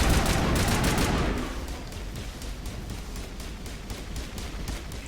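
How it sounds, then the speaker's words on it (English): Rapid automatic gunfire in Mass Effect Legendary Edition, dense and loud at first, then continuing as a quieter, steady rattle of evenly spaced shots, with no voices over it. "Who is firing at me?"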